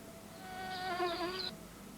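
A mosquito drones past with a thin, high-pitched whine that swells and fades over about a second, faint and alone against a quiet background.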